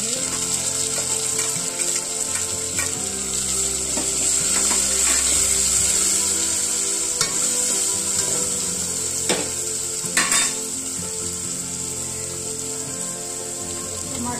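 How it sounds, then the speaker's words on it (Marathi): Onion and tomato fry in a pan, a continuous sizzle with scattered sharp clicks and scraping stir sounds close by, accompanied by steady background mechanical whine and clatter. "कांदा छान परतून घ्यायचा, ब्राऊन कलर येईपर्यंत।"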